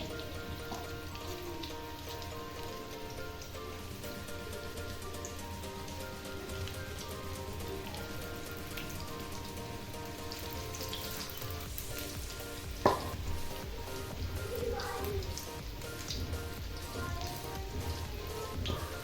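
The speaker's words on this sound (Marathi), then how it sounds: "अशा पद्धतीने सर्व भज्या आपण तळून घेणार आहोत." Sweetcorn pakode, crispy corn bhaji, frying in hot oil, a dense steady sizzle and crackle like rain on a surface, continuous and close, with one brief clink partway through.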